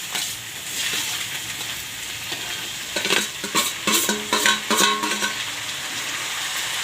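A kilo of chopped tomatoes sizzle steadily in a pan with onions for a drumstick-tomato curry, with a cluster of scraping, clinking stirring strokes in the middle over the constant frying hiss.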